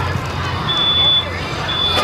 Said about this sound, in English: Smoke detector just went off, start the clock.